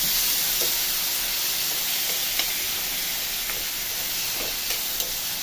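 Onion and garlic sauté in a pan with a continuous bright hiss and sizzle, close up, broken by a few faint clicks of stirring, with no talking.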